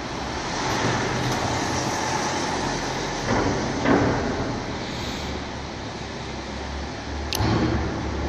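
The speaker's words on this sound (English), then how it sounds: "Another car is coming here." A car approaches and passes along a road outdoors, a broad roadway rush that swells and fades over several seconds amid steady background traffic noise.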